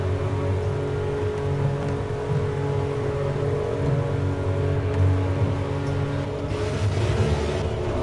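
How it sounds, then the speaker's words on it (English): Rain patters steadily in the Project CARS racing game at Laguna Seca, a dense hiss over the low idling drone of a race car on the grid, continuous and fairly loud throughout. "Oh, it's raining."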